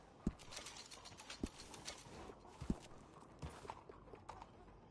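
A horse's hooves clip-clop at a steady walking pace in Red Dead Redemption II, faint and evenly spaced against a quiet outdoor ambience.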